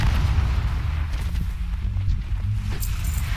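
Imps burst in a World of Warcraft warlock Implosion spell as a string of deep, booming blasts over continuous low battle rumble, with a sharper pop near the end.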